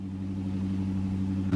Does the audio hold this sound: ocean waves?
no